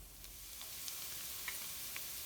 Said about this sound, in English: the garlic is sizzling up very nicely in here